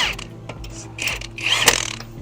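A hand ratchet fitted with a 19 mm socket works on the lug nuts of a 2008 Honda Civic EX during a brake job, giving short bursts of rapid clicking, loudest near the end, close and clear with no talking.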